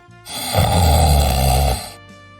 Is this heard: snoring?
yes